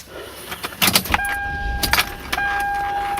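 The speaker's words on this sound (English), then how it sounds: "Okay, the car's now on." Keys jingle as a 2000 Toyota Avalon is started, with rattling key clatter and clicks, then the ignition turning and a steady electronic chime tone continuing as the car sits running, close and clear inside the cabin.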